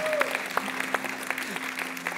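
A church congregation at a Sunday service claps for Jesus, a sparse patter of hands under a sustained tone and a faint voice, with a few sharper claps standing out.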